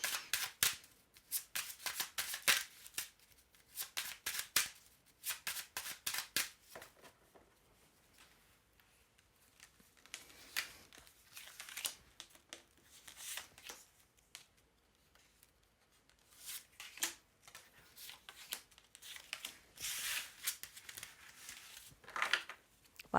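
A deck of tarot-style reading cards being cut and shuffled by hand, with quiet rapid riffles and flicks in clustered bursts, faint and close with no talking.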